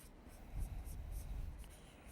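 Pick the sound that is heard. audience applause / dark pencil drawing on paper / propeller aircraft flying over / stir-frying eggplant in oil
dark pencil drawing on paper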